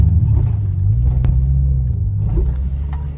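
A BMW E36 fitted with a 13B rotary engine accelerating, a loud, close, low droning rumble that holds steady and rises slightly, with no voices over it.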